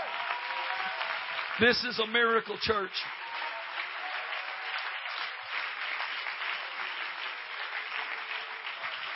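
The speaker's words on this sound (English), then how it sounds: "let's clap our hands to the Lord and give Him praise right now" Church congregation clapping hands in praise during a sermon, a steady wash of clapping throughout, with a preacher's voice speaking briefly over it early on.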